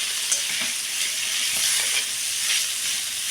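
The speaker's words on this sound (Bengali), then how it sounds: "ফুলকপিটাকে ভেজে নিচ্ছি, আলু আর ফুলকপিটাকে।" Potato and cauliflower pieces fry in oil with a dense, loud, even sizzle close up. Faint stirring movements ripple through it.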